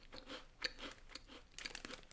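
Mild, slightly salty cheesy English crisps being eaten up close, with a run of crisp crunches and chewing bites in an irregular rhythm, no talking.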